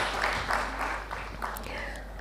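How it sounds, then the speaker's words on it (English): Applause from an audience at the opening ceremony of an international conference on sustainability education, a steady moderate clatter of clapping hands lasting throughout, somewhat distant with no voices over it. "May we please have a round of claps for this beautiful and noble cause."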